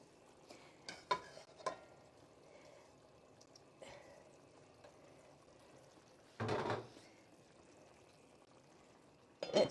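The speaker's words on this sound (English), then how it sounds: "Let's put the cabbage in." Cabbage dropped into a pot of hot water on a kitchen stove: a brief watery splash and rush midway, set among light clinks and handling noises in a quiet kitchen.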